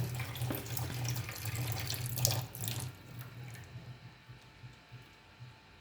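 Tap water runs steadily over goat mutton being rinsed in a sink, a loud splashing flow for about three seconds that then drops to a quieter trickle and drips.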